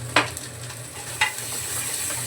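Salt is stirred into hot oil with cumin in a pan for a potato curry, producing a steady low sizzle broken by two sharp spoon scrapes.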